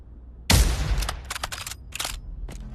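Gunfire on a WW2 shooting range in the VR game Pavlov VR: a loud close shot followed by a rapid series of sharper cracks and clicks, irregular bursts with brief gaps.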